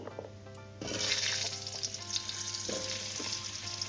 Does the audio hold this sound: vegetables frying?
yes